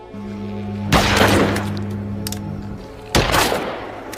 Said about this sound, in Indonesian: Akhirnya Sergei menembak semua kepala zombie itu karena ia merasa kasihan melihatnya